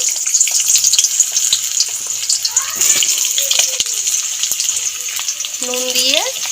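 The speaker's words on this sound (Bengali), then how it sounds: "বড়ি ভাজা গরম তেলের মধ্যে আলুটাকেও ভেজে নেব।" Potato pieces fry in hot oil just used for frying lentil bori, giving a continuous crackling, bubbling sizzle close by, with a few brief tonal sounds rising over it.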